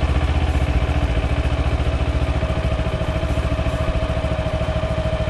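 A motorcycle engine runs with a rapid, steady pulsing throb, idling close by with a faint mechanical clatter and no voices, its revs dropping as the clutch engages.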